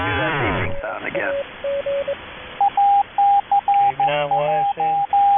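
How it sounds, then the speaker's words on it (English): Repeated beeping tones sent over a 40-meter amateur shortwave radio link, steady pitched bursts in short rhythmic groups with a deeper tone layered in near the end, after a brief burst of radio voice at the start. "Hold on, I gotta do that beeping sound again."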